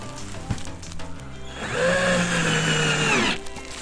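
A power drill drives longer screws into a wooden bird feeder, a sustained whirring burst of about two seconds after a few light knocks and handling sounds, close and fairly loud.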